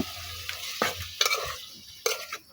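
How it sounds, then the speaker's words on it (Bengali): A spoon stirs meat through spiced onion in a frying pan, a few scraping strokes over a soft sizzle, close and fairly quiet. "মাংসটা দিয়ে দেওয়ার পর আমি একটা চামচের সাহায্যে খুব ভালোভাবে নেড়ে ছেড়ে দেব"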